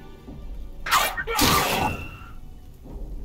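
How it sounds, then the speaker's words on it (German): A magic explosion in the video game Warhammer: Chaosbane bursts out as two sharp, shattering blasts in quick succession, loud bright crashes with a whooshing tail, followed by a faint thud. "Das ist ihre scheiß magische Explosion."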